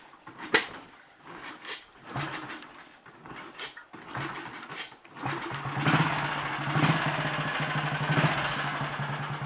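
A Royal Enfield Bullet 350 G2 motorcycle, just rebuilt and on a bike lift, kicks over with a few clunks and sputters before its single-cylinder engine catches and settles into a steady, loud idle.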